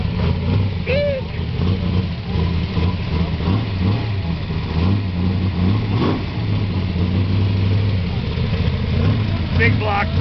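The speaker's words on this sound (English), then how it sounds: "Big block Chevy. 1934. 454 Camaro." A big block Chevy 454 Camaro engine rumbles and revs at close range outdoors at a local car gathering, a steady low drone with swells, while people talk over it.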